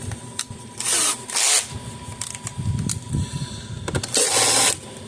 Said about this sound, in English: we're going to put a Phillips screwdriver bit into here